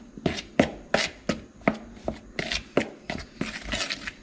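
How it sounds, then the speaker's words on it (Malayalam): Dry batter powders mixed with baking soda being stirred in a bowl, a run of about a dozen close, regular scraping strokes, each a short crisp swish. "എല്ലാം നന്നായിട്ട് മിക്സ് ആവുന്ന രീതിയിൽ ഇളക്കി കൊടുക്കാം"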